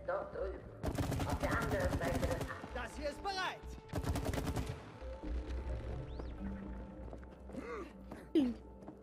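Rapid bursts of automatic gunfire from the co-op video game It Takes Two, two dense volleys followed by scattered shots, game sound effects and a low background hum, with players talking between the shots.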